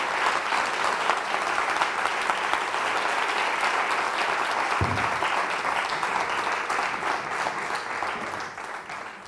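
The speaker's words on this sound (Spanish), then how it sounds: "Los aplausos a ellos." Steady applause from a conference audience at an environmental report presentation fills the room, dense and continuous throughout with a brief low thump midway.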